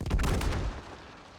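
A single explosion in the New World game, a sharp loud blast with a rumbling tail that fades over about a second.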